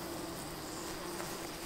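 Honey bees hum around a small queen mating nuc, a steady, dense buzz filling the air close by without a break.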